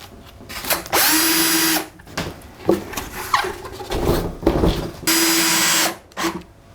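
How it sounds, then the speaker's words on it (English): A power drill drives screws through insulation into a wooden bee hive box, with two long steady whirring bursts of about a second each, separated by shorter clicks, handling knocks and brief spurts of motor noise, close and loud. "On the short side, I attach the insulation with 4 screws."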